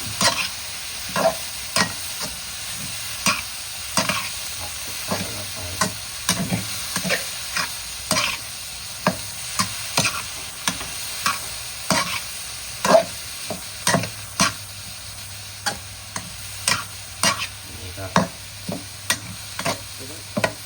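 Bean sprouts being stir-fried in a pan with minced pork and spring onion, a spatula striking and scraping the pan in a regular rhythm over a soft sizzle, with no one talking.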